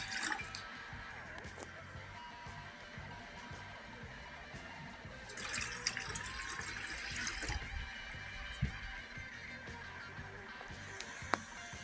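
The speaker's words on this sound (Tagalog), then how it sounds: "Okay, salinan natin siya ng tubig" Tap water runs steadily and faintly into an electric kettle, a soft continuous trickle with a brief heavier surge midway, heard close in a quiet room.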